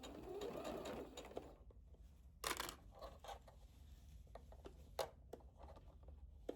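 Sewing machine stitching the princess seams of a wrap dress, a steady whirring run that stops and restarts in short bursts with light clicks and fabric handling between them.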